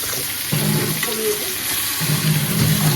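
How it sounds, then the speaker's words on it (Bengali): Poppy seed and green chili paste hits deep-fried eggplant in a pan, sizzling and crackling steadily at close range, with short bursts of louder frying. "এবার পোস্ত আর কাঁচা লঙ্কা বাটাটা এর মধ্যে দিয়ে দিচ্ছি।"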